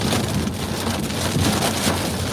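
A storm's downpour beats continuously on a car while driving, with loud, close, unbroken rain hiss and pattering drops and no talking.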